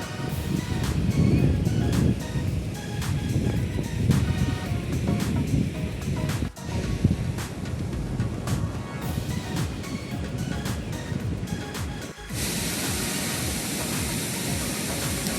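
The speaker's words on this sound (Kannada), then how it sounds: "ಗೊಡಚಿನಮಲ್ಕಿ ಫಾಲ್ಸಲ್ಲಿ ನೀರು ಸ್ಟೆಪ್ ಬೈ ಸ್ಟೆಪ್ ತುಂಬ ಚೆನ್ನಾಗಿ ಬರ್ತಾ ಇರುತ್ತೆ" Godachinamalki waterfall in Belagavi district, water tumbling down rock steps in a loud, continuous broadband roar, with brief dips around the middle and no voices.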